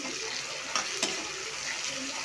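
Curry leaves dropped into hot oil in a pan while cooking vegetable kurma, giving a steady close sizzle and hiss throughout with a couple of brief crackling pops.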